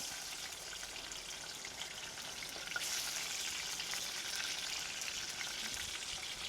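Garlic frying in hot oil while okra is cooked, a steady close crackling sizzle that holds throughout with no talking.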